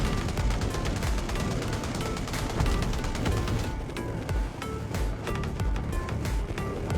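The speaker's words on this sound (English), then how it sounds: "all the proximity cannons in the canyon roared to life. Bullets poured down like rain" Dense, continuous gunfire and cannon fire in a canyon, deep booming blasts rolling together into a loud, chaotic barrage that never lets up.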